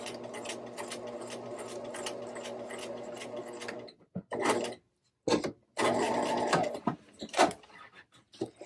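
A sewing machine runs at a steady, dense whirring pace while stitching a curve on a fly front zipper, then stops and restarts in shorter bursts with brief pauses, close and clear.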